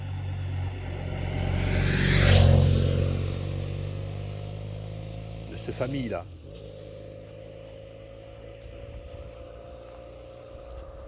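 A car passes close by on a country road beside a field, its swell rising to a peak and fading, followed by a second brief whoosh; a person speaks over it.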